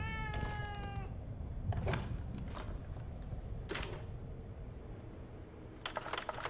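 A cat meows once, close and clear, with a drawn-out call at the start, followed by sparse clicks and taps against a quiet room background.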